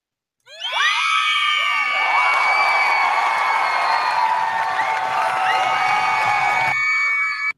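A loud crowd cheers, whoops and screams with high excited voices in a sustained burst that starts abruptly and cuts off after about seven seconds.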